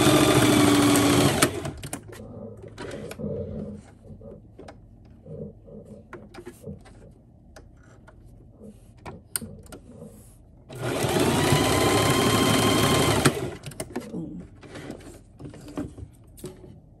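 Sewing machine stitching a fluffy American flag dog bow tie, two loud close bursts of high-pitched motor whirring at the start and around the middle, with quiet fabric handling in between.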